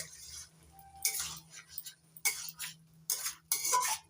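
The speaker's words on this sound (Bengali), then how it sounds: "এবার চিনিটা নাড়াচাড়া করে ভালো করে মিশিয়ে নিচ্ছি" A spoon stirs sugar into a shapla (water lily stem) and shrimp curry in a pan, making quiet, intermittent scraping and clinking strokes against the metal, with pauses between them.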